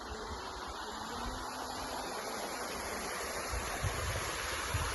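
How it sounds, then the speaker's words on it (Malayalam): A small stream flows behind a resort in Vagamon, giving a steady, soft rushing and babbling of water that stays even and fairly faint throughout, with no talking. "ഇവിടെ ചെറിയൊരു അരുവി പോലെ ഒരു ഇതുണ്ട് കേട്ടോ."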